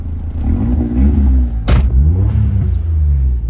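A Suzuki Alto Works CR22S engine, recently repaired for an oil leak and misfire, idles steadily with a close, low rumbling drone and a brief louder burst midway.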